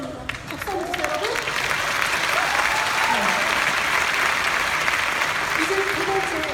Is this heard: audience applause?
yes